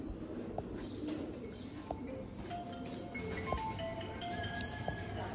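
A Sialkoti pigeon coos softly several times, set against low background noise and a few other faint bird chirps.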